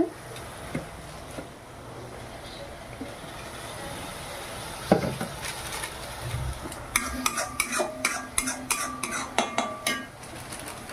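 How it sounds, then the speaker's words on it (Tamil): A spoon stirs tomatoes into food in a pan in a home kitchen, with soft scraping early on, then a run of sharp, rhythmic metallic clinks against the pan, close and clear with no talk. "இப்போ தக்காளி போட்டு மிக்ஸ் பண்ணிகிட்டு இருக்காங்க"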